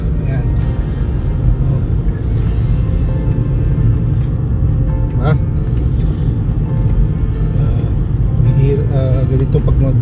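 A car cruises along a snowy highway in Canada, a steady low engine and tyre rumble filling the cabin throughout while a person talks over it.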